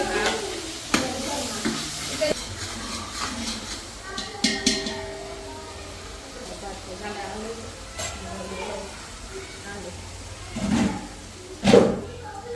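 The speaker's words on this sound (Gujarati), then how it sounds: "આદુ મરચીની પેસ્ટ નાખી એમાં." Ginger-chilli paste frying and stirred in a pan in a home kitchen, a faint ongoing sizzle with occasional utensil clanks and scraping, while people talk nearby.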